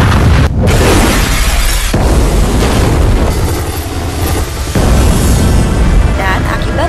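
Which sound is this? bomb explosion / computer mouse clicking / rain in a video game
bomb explosion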